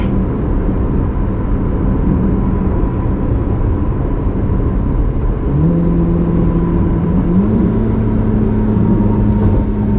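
A Corvette C8 Z06 engine drones steadily throughout, with a deep rumble and a rising pitch partway through as it revs while driving; no voices.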